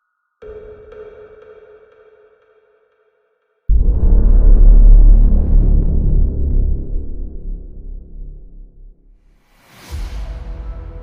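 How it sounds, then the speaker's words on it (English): Saturn's radio emissions from near the north pole, captured by the Cassini spacecraft and converted to sound: a tonal throbbing drone fades out, then a loud low rumbling roar swells and dies away before a rising whooshing sweep. "What you're hearing is raw electromagnetic radiation data"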